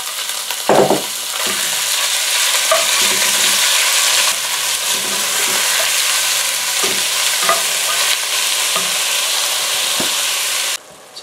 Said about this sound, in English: Add some oil to a hot pan. Add the beef.